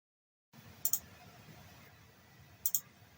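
A computer mouse clicks in close pairs while working in Adobe Photoshop, two sharp double-clicks separated by about two seconds over a faint, steady room hiss.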